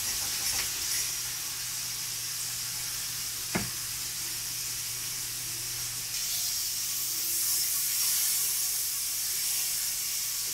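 Bacon strips sizzle in a pan for a quiche, producing a steady hissing crackle with one sharp clink of a utensil partway through; the sizzle swells slightly toward the end.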